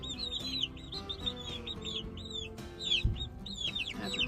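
Young barred rock chickens in an outdoor brooder, clucking and peeping repeatedly in quick, overlapping calls, close by, with a soft bump partway through.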